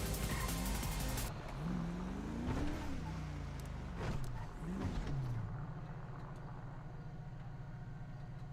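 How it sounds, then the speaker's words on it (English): A custom car engine in a video game revs and accelerates, its pitch sweeping up and down several times before settling into a steady drone. "I heard like an accelerating custom car"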